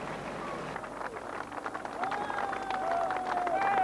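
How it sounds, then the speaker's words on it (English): Applause from waiting families and servicemen greeting returning Falklands War sailors from the Sheffield's flotilla, a broad crowd of clapping and cheering outdoors, swelling louder toward the end with voices mixed in. "there was applause from waiting families and servicemen."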